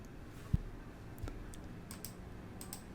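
A few soft, scattered keyboard key presses and clicks sound close by against quiet background hiss, with one sharper tap early on.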